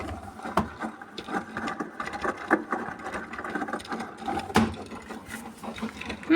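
Beko WMY81283LMB2 washing machine in its main wash on the cotton 40 program at 1200 rpm with extra rinse, sudsy load, giving a steady mechanical churning and sloshing hum with knocks and clunks throughout, fairly close.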